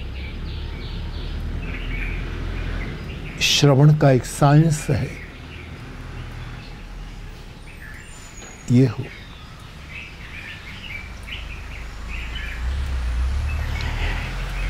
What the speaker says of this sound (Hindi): ये चिड़िया बोल रही हैं,